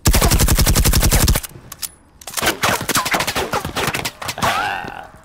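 Video game machine-gun fire: a loud rapid sustained burst, then a pause and more ragged bursts of automatic fire with echoing shots.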